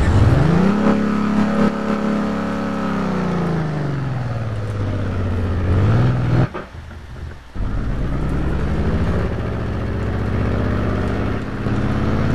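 Motorcycle ridden in the racing game Test Drive Unlimited 2, its engine rising and falling through revs and gear changes, loud and continuous, with a brief drop near the middle.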